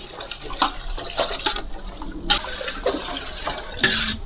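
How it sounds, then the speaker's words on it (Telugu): Water splashes and gurgles in uneven bursts as it is poured over rice being prepared for a village-style mixed biryani, nearby and moderately loud. "గ్లాసుడి బియ్యానికి గ్లాసు నాడు వాటర్ వేసుకోవాలి"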